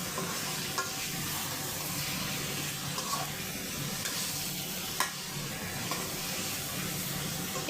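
Rohu fish pieces drop into a pan of fried spice mixture for an okra curry, setting off a loud, steady sizzle with a few sharp spatters and stirring clatters throughout.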